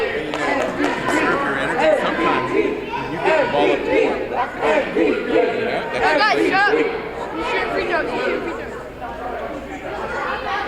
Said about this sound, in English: And you hear the chanting.